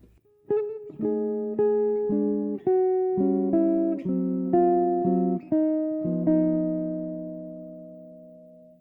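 Jazz guitar chord-melody voicings from the closing four measures of a chorus of a jazz standard: about ten clean, ringing chords struck in a steady rhythm, the last one left to sustain, with no talking.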